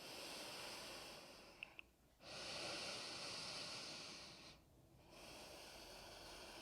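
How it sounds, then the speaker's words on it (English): Slow nasal breaths during a prenatal yoga downward dog, a soft hissing inhale and exhale drawn in long even cycles with a brief pause between, quiet and close with no talking. "Breathing in and out through your nose."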